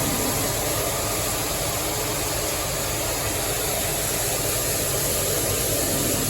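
A farm tractor engine runs steadily throughout, a constant broadband idling rumble with a thin high whine on top, close and unchanging with no voices.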